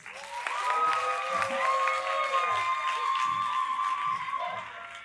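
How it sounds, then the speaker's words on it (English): Crowd at a high school homecoming coronation applauding its candidates, steady clapping mixed with cheers and a sustained tonal sound above it, fading slightly toward the end. "Now, another round of applause for our candidates."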